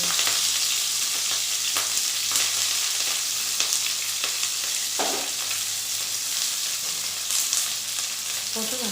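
Onions, curry leaves and green chillies sauté in hot oil for a home-style chicken gravy, a steady loud sizzle and crackle with scattered stirring scrapes throughout and no voice.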